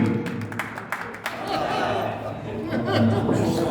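Applause at a Hindi kavi sammelan (poetry gathering) for a poet. Steady clapping mixes with audience chatter and light laughter, with a voice speaking through it.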